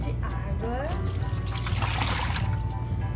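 Water poured into an ice cream mix, a steady liquid trickle running throughout under a person's talk, moderately close.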